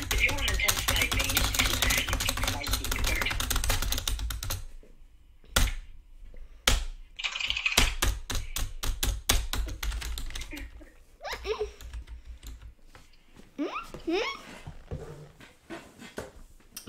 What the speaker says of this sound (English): If you want intense typing